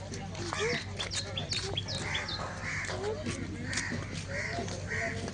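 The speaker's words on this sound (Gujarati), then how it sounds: "બીજું અહીંયા પોપટ છે" Repeated harsh squawking calls of a parrot, loud and close, recurring every second or so over a steady low background hum, with people talking faintly nearby.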